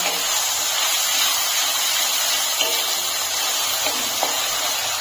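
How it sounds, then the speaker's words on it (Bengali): Spice paste and onions fry in a pan for a home-style meat curry, giving a steady, even sizzling hiss throughout with a couple of faint clicks. "এখন মশলাটাকে ভালো করে পেঁয়াজের সঙ্গে কষিয়ে নেব"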